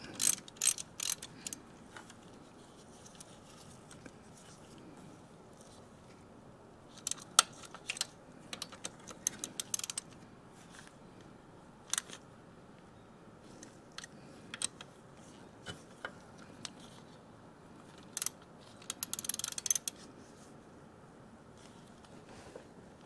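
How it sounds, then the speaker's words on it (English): A ratchet tightens the transmission oil filter cap on a Honda Goldwing motorcycle, with bursts of quick close clicking separated by quiet pauses. "So now I can take my ratchet and we can tighten this, the transmission oil filter cap."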